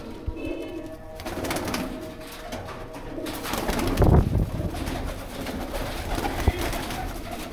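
Pigeons coo softly and repeatedly close by, low throaty calls blending with rustling and faint voices in the background.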